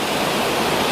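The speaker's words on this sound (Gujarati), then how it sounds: "ધોધમાર વરસાદ આવ્યો અત્યારે." Heavy monsoon downpour at a Goa resort beside a swimming pool: a dense, steady roar of rain, loud and unbroken throughout, with no voices.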